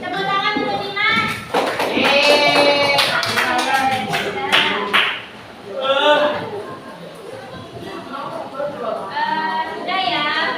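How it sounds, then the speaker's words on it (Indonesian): Classroom applause for a student named Dimas, a burst of many hands clapping close by for several seconds, then voices of teacher and pupils talking over scattered claps. "Tepuk tangan untuk Dimas."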